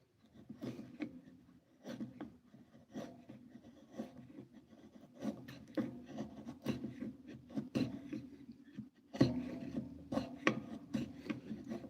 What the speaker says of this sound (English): now cleaning up and building with my chisel